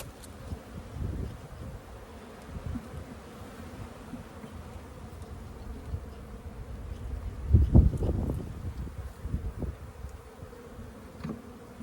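Honey bees drone steadily around a nucleus hive frame at a beekeeping nuc pickup, a close, continuous buzz that swells louder for a moment as bees pass near, with faint handling noise and no talking.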